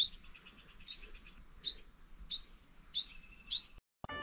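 Wild birds chirp at a trap cage, with six sharp, high chirps repeating at a steady pace close by. A brief clatter follows at the end.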